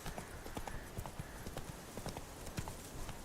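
Horse hooves gallop in The Witcher 3 video game, a quick regular clip-clop rhythm that is close and continuous, with faint game ambience beneath.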